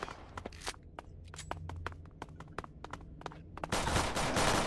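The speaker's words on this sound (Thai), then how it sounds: "มาช่วยกันยิงเลยครับนุ่ม" Rapid bursts of gunfire in the Roblox game Killjoy, a string of sharp shots over a steady low game hum, ending in a dense loud wash of noise.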